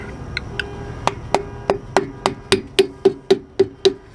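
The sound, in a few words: dead blow hammer tapping on dust cap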